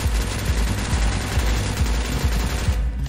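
Rapid automatic gunfire from the top-down online shooter Surviv.io, a dense, steady burst of loud shots running almost unbroken for about three seconds with a thumping low end and no talk.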